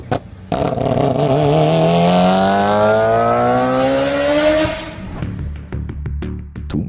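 A Mazda rotary Wankel engine revs hard and loud, its pitch climbing steadily for several seconds before cutting off abruptly into a few sharp pops and a rough idle.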